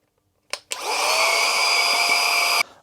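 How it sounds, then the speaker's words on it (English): A small dual-purpose vacuum cleaner and dryer switches on after a couple of clicks and runs with a steady, high-pitched whine for about two seconds before cutting off. "this side is suction, so that's the vacuum part"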